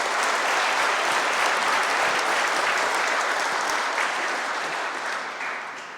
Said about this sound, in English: I think another round of applause is appropriate.